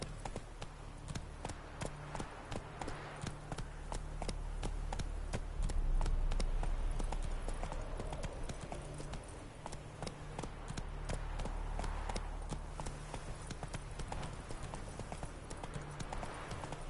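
Horse hooves gallop in The Witcher 3 video game, a fast, steady clip-clop rhythm running throughout at moderate loudness over a low background drone.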